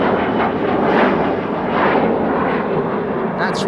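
Departing airliner at Amsterdam Schiphol Airport, a loud, steady broadband engine roar filling the whole stretch without letup, close and powerful, with no talk over it.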